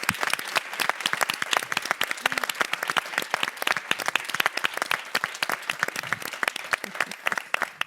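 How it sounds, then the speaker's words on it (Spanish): An audience at a public dialogue event on citizenship and transformation applauds a speaker, a dense, sustained burst of many hands clapping at steady volume throughout. "Le damos un enorme aplauso a Olga."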